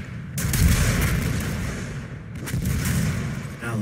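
Weapon fire from a rocket launcher in the Doom open beta, heavy booming blasts and explosions rolling continuously for several seconds, loud and dense, with a second burst of blasts after a short dip.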